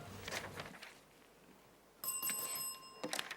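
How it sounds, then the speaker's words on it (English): A quiz-show bell marking the end of a section rings out as a brief, bright metallic tone with sustained ringing overtones, sounding clearly after a quiet pause. "that bell signifies the end of section 1"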